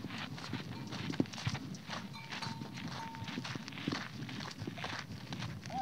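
Goat hooves clop and shuffle over the ground on a farm in the Brazilian sertão, a string of light, irregular steps close by, with quiet background noise and no clear talk.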